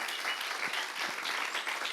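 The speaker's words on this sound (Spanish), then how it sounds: "Dale un aplauso al Señor" A church congregation claps for the Lord in a continuous, even applause from many hands, heard alone at moderate distance.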